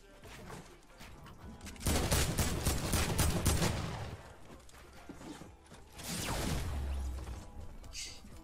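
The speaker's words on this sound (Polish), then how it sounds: "Dostałem strzał ze snajperki." Loud bursts of video game gunfire with mechanical clatter, a sharp heavy sniper rifle shot around the middle followed by a second loud blast and rumble.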